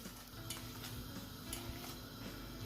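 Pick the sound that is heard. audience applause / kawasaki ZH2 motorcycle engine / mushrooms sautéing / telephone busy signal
mushrooms sautéing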